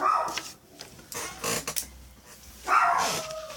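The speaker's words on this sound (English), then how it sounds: "And my dog is barking." A dog barks indoors while someone works on paper crafts: a few separated barks, one near the start and a louder one toward the end, with quieter shuffling sounds in between.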